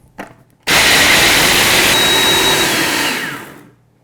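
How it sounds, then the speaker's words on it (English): A food processor switched to high speed grinds almonds, starting with a brief knock and then a sudden, steady, loud whirring roar that holds for about three seconds before winding down. "Now we're going to turn it on to high to grind up our almonds."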